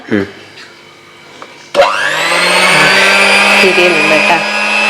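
A kitchen blender whirs as it makes watermelon juice. A voice talks briefly before the motor kicks in, then the blender runs with a loud, steady, close whine to the end.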